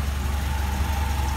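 The original 1.6-litre Russian engine of a Lada Niva jeep idles with a steady, low, rhythmic rumble, close and continuous.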